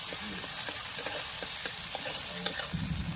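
Ginger, cumin, coriander and dry chili paste frying in a pan, a dense continuous sizzle with light rhythmic stirring scrapes and occasional spatula taps, close and fairly loud.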